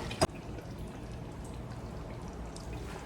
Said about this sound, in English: I'm gonna pour some more water for the gravy.